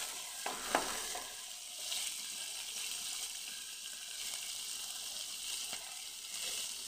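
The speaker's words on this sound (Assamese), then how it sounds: "মাছৰ পেটুখিনি অলপ পিঁয়াজ আৰু জলকীয়া দুটা ফালি দি এনেকৈ ভাজি আছোঁ" Fish belly frying with sliced onion and split green chillies gives a steady, moderate sizzle with a few clinks and stirring scrapes, no talking.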